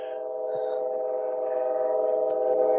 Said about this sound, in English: that is the train that goes from Valleyhead